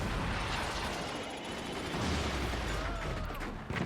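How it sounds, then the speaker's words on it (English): EMP cannon volleys fire in the strategy game Forts, a dense, continuous rumble of booming shots and blasts that stays loud and close throughout, with faint speech tucked underneath. "EMP cannon gets cast in there."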